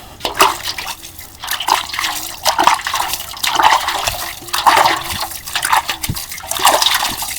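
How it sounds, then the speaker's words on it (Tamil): Cow dung water sprinkled by hand over a heap of farmyard compost outdoors, giving repeated splashing, pattering bursts roughly every second, fairly close and moderately loud, with no talking. "இப்போ நம்ம இதில் கொஞ்சம் சாணி தண்ணி தெளிச்சிக்கணும்"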